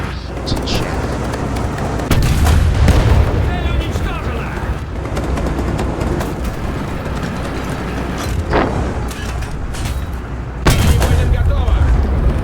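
Tank gunfire and explosions in the video game War Thunder come through as heavy booms and rumbling blasts over a constant dense battle din, with several louder thuds spread throughout.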